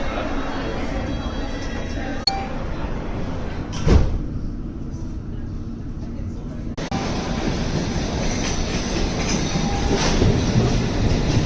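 A London Underground District Line train runs with a steady loud rumble and wheel roar, a sharp clunk near the middle, then a brief quieter stretch before the running noise swells again; speech tagged faintly but no clear words.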